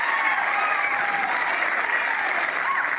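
A tennis crowd at the Atlanta Open grandstand court cheers and applauds: dense, steady clapping mixed with whoops from a large audience that stays loud and even throughout, with no clear single voice on top.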